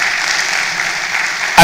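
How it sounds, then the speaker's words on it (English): A crowd claps steadily at a University of Abuja student union manifesto debate, a sustained even wash of applause that cuts off abruptly into a louder noise at the end. "So a round of applause for all of us seated here."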